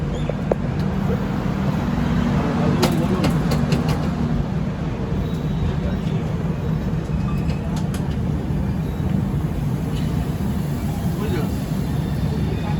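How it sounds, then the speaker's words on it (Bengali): Passenger train on the Kolkata to Puri route pulling out of Khurda Road station, heard from inside as a steady low rumble and hum of running wheels, with a few brief clanks early on and voices under the noise. "তো আমাদের ট্রেনকে এখান থেকে ছেড়ে দেওয়া হলো।"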